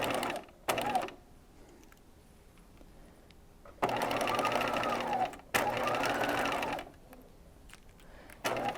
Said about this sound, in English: I'm going to sew the sleeve on at a 1/4 inch.